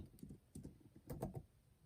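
Fingers type on a computer keyboard, giving quiet, close clusters of key clicks in short irregular bursts with brief pauses between them, and no talking.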